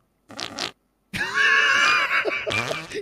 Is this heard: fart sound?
yes